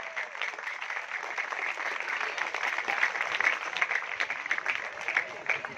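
Sustained applause from a crowd at an Independence Day celebration at a school or village gathering, steady dense clapping throughout without a break, moderately distant.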